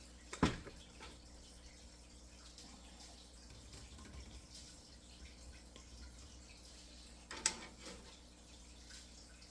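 Lids on canning jars of plum sauce seal after steam canning, giving two sharp, distinct pings a few seconds apart over a low, steady background hum, with no talking.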